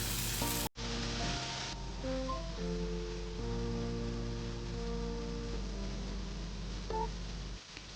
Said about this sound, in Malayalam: അടിയിൽ പിടിക്കാതിരിക്കാൻ വേണ്ടി നന്നായിട്ട് ഇടയ്ക്കിടയ്ക്ക് ഇളക്കി കൊടുത്തുകൊണ്ടേയിരിക്കണം